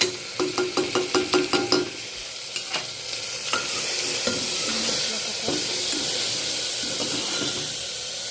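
Spices sizzling in hot oil in a pan. Quick rhythmic metal scraping and tapping at first, then a steady loud frying hiss with occasional stirring clinks.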